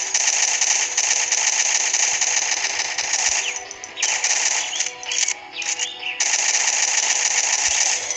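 Gunfire from the mobile shooter Pixel Gun 3D comes as rapid sustained automatic bursts with a couple of short breaks, loud and close, with no voice over it.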